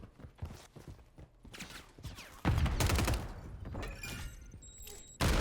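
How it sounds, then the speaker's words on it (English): Grenade blasts in a first-person shooter game, a loud booming burst that hits suddenly, with a second sharp blast right at the end amid scattered gunfire and clatter. "Throwing grenade. Fuck that. Frag out."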